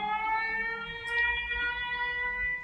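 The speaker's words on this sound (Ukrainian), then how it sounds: "Увага! Повітряна тривога." Ukrainian air raid alert siren sounding steadily, a sustained wailing tone with rich harmonics, fairly loud and close, with no talk over it.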